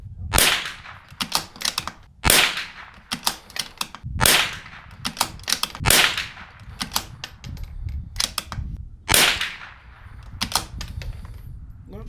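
Cheap Walmart .22LR ammunition fired from a $4000 custom rifle: ten sharp, loud reports spaced roughly a second or two apart, each a crisp crack with a short tail, no talking.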